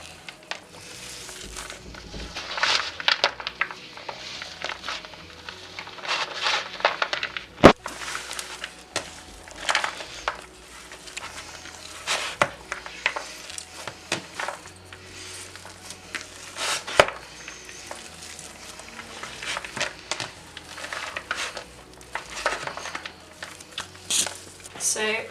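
Hot cross bun dough being kneaded by hand in a bowl gives soft, irregular squishes and dull thumps, faint and intermittent, under a person talking.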